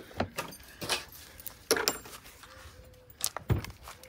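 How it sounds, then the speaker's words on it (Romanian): A key jingles and clicks in the lock of a Knaus Sport 2017 caravan door, a few sharp metallic rattles and knocks spaced over a few seconds, close by and fairly quiet, with no talking. "Să luăm și cheia, să descuiem"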